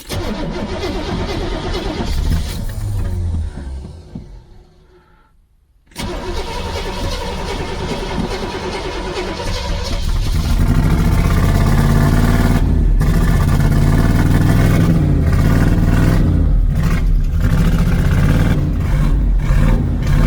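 An old car with a carburetor in need of more work cranks, falters into a brief quiet, then catches and runs. The engine rises into a loud, steady, rough rev, close up and alone.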